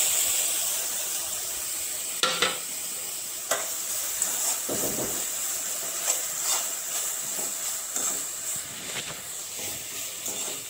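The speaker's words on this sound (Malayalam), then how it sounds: "ഇനി ഗ്രേറ്റ് ചെയ്ത കാരറ്റ് ഇട്ട് കൊടുക്കാം." Grated carrot sautéing in ghee in a hot pan for carrot halwa, a steady soft sizzle and hiss with occasional scrape and stir clicks, close and alone without talk.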